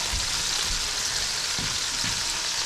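Onions fry in a pan at a breakfast cooking session, giving a steady, close, crackling sizzle with a few soft stirring knocks and no talk.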